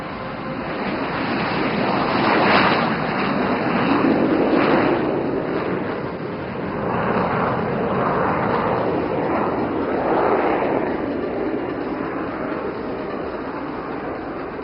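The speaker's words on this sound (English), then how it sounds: "all the 9 aircraft of the Suryakiran team are now airborne" Jet aircraft of the Suryakiran aerobatic team take off in formation at an air show, a loud, continuous broad roar that swells and recedes in waves over a sustained high whine, with no talk.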